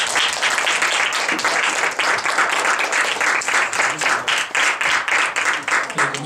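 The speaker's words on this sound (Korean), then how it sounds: "감사와 존경을 담아서 큰 박수로 모시겠습니다" A large lecture audience gives loud, steady applause of dense, continuous clapping that lasts throughout as a guest professor is welcomed to the stage.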